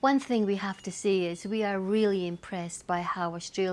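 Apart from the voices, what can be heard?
None of the usual background noises is heard.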